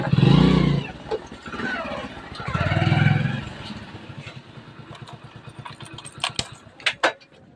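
A motorcycle is ridden in and parked, its engine a low rumble under a person talking, followed by scattered clicks and metallic jangles as it settles.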